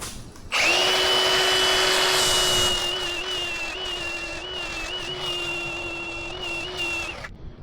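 An angle grinder cleans up an old weld on an aluminum outboard motor skeg, a loud steady high whine that starts abruptly and runs continuously for about seven seconds before cutting off, with no talking.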